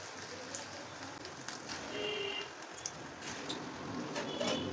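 Khoi bora, puffed-rice fritters, fry in hot oil over medium-low heat, giving a soft, steady crackling sizzle with scattered small pops at low volume.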